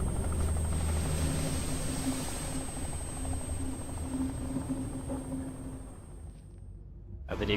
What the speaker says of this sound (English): the executive boards his helicopter rotors already spinning